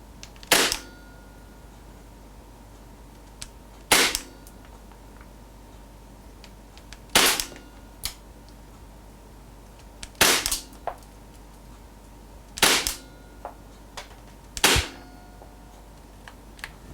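KWA MP9 airsoft gun firing 0.20 g bio BBs on green gas into a chronograph, six sharp, isolated cracks spaced a few seconds apart, each followed by a faint tick, in a quiet room.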